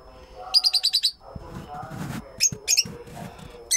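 Hungry lovebird chicks give rapid, high-pitched chirps in a quick burst of about six, then more scattered squeaky calls, close by, over someone speaking Hindi.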